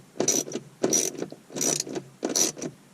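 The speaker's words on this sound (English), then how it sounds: "now we are ready to put two of our torque screws back in" A screwdriver turns Torx screws into a BMW dashboard screen, giving four short bursts of ratcheting, clicking mechanical sound at an even rhythm, close and fairly quiet, with no talking.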